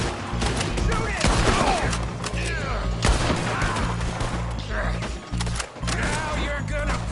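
Gunfire in the video game Red Dead Redemption 2, loud rapid shots and bursts in a chaotic exchange, mixed with shouted voices and in-game clatter.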